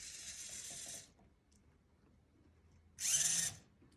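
Arduino-controlled servos steering a Mars rover-style robot whir in two short buzzing bursts, about a second each, separated by quiet, close and fairly faint.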